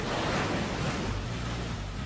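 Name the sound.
Hurricane Sandy storm waves and wind on the coast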